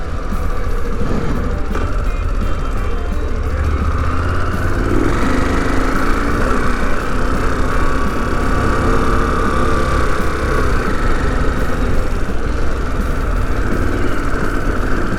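A vehicle engine drones steadily and loudly up close as it climbs a steep prairie trail, a continuous low rumble with no clear gear change standing out and no talking.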